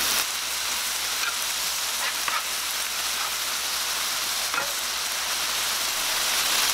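Pak choi stems sizzle and fry steadily in a hot pan, a continuous crackling hiss with occasional stirring scrapes, close and fairly loud with no talking.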